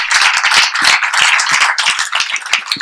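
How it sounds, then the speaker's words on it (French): A dense crowd applauds loudly and steadily, many hands clapping at once with no pauses. "On peut vous applaudir."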